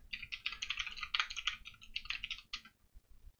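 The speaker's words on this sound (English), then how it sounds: "So if we type that into an address bar here" A website address is typed on a computer keyboard in a quick, close run of crisp key clicks that pause briefly and stop near the end, with no speech.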